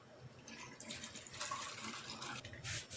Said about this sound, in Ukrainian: Заливаємо баночки кип'ятку.